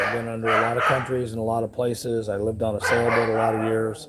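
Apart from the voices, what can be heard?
dogs barking at someone on the property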